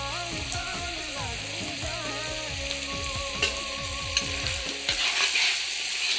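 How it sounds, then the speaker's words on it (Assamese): Ground cumin is stirred as it fries in a pan, with a loud, continuous sizzle and repeated scraping strokes. A voice is heard faintly underneath. "আকৌ লৰাই দিছোঁ এনেকৈ।"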